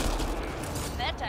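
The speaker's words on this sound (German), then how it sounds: "Netter Kopfschuss." A gunshot headshot in Mass Effect: Andromeda cracks over a low combat rumble, a brief single report as a voice speaks.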